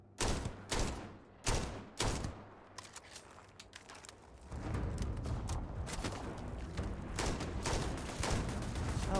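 Rifle fire in the game Starfield rings out as a few loud, separate shots at first, then gives way to a dense, steady barrage of rapid gunfire and rumbling that continues to the end.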